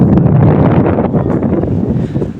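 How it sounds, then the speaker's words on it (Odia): Strong wind gusts blast straight into a phone microphone, producing a loud, continuous rumbling buffet that swells and eases slightly throughout, with no voices. "ଭୟଙ୍କର ପବନ ଭାଇ, ଭୟଙ୍କର ପବନ।"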